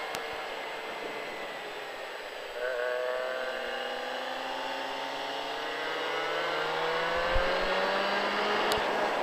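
A car on a lap of a race track, engine tone rising and falling steadily under constant road and wind noise, fairly close and continuous throughout.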